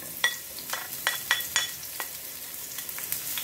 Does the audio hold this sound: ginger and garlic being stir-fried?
yes